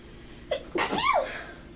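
A single sharp sneeze close to the mic, a short intake followed by an explosive burst that trails off quickly, against quiet background.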